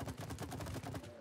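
Rapid gunfire from a weapon in the video game It Takes Two, a dense run of repeated shots lasting just over a second, loud and steady with no talk over it.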